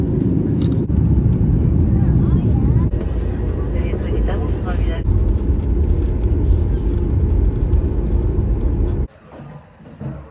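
A Boeing 737 airliner gives off a loud, steady engine roar heard close by, with people talking over it, before the noise drops sharply near the end.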